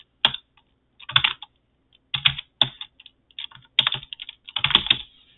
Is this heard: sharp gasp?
no